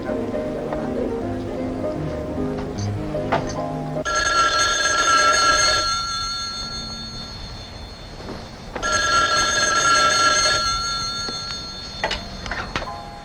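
Old-style telephone bell ringing in two long, loud rings separated by a pause, after some speech and music, with a voice picking up at the end.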